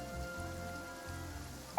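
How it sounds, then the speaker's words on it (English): Rain falling in the video game Genshin Impact, a soft, steady patter of drops on surfaces, faint and continuous under a low ambient hum with no voices. "It's raining."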